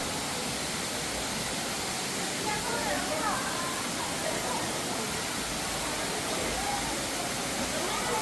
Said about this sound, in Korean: 물 떨어지는 소리가 들립니다.